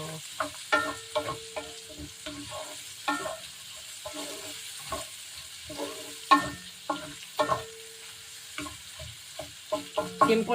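Pancit noodles are stir-fried in a pan, with repeated scraping and tossing strokes over a soft sizzle, close and uneven in rhythm, alone with no talking.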